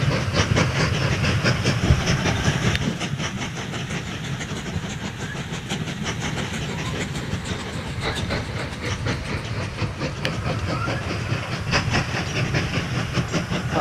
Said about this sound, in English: Quite a good shot of the 2 trains there going into the station.